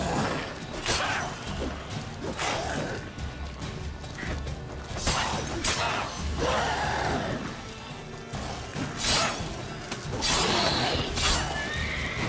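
A horse in the video game The Witcher 3 whinnies repeatedly, loud agitated neighs recurring every couple of seconds amid hoof clatter, thuds and swishes of combat.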